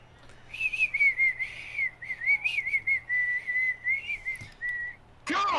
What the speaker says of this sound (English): How many times do I have to remind people not to whistle into microphones?